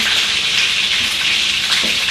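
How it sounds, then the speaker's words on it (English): Light sodium soy sauce is poured into a dish for orange chicken, producing a steady, close liquid gush that runs without a break. "I have 1/4 of a cup of light sodium soy sauce. We're just going to pour that right in."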